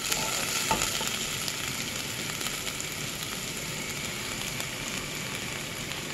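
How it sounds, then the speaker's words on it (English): Spices fry in a little oil for a jalfrezi, a loud steady sizzle and crackle close by throughout, with no talking. "That fries the spices off in this bit of oil"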